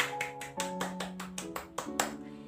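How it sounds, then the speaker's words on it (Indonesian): A fourth-grade classroom claps in a quick rhythmic pattern, about nine sharp claps in a row over a sustained tonal hum of voices, fairly near and moderately loud. "Berikan tepuk tangan yang meriah untuk kalian semua."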